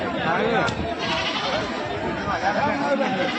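Goats bleat amid the crowd at Babarpur goat market in Uttar Pradesh, a few calls rising over constant close chatter and haggling voices.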